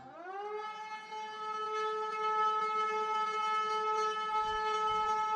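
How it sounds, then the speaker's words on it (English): A civil-defense-style siren blares in the video game Super Danganronpa Another 2, rising at the start and then holding a loud, steady, harmonic-rich wail throughout. "What is that siren?"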